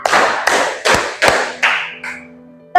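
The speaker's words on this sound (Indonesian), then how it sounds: "Tepuk satu, tepuk dua, tepuk tiga," Loud, close clapping in a classroom: five sharp sets of claps spaced about evenly, each a quick burst of hand slaps, with a short tone at the end.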